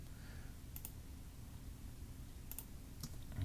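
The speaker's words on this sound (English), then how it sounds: "You can actually hold shift on your keyboard and click with your left mouse button" A few sharp computer clicks from a keyboard and mouse, with shift held while the left mouse button is pressed; faint, spaced taps over a steady low hum, no voices.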